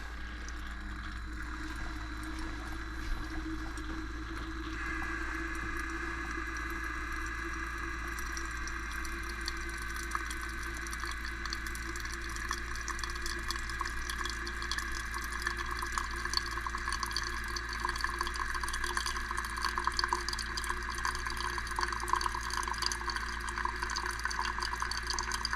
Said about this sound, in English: Water pump test.